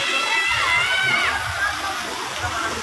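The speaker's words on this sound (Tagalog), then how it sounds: "Ayun ang shower area." Water runs and splashes in the shower area of a garden resort, a steady wet rush heard at close range beneath a person talking.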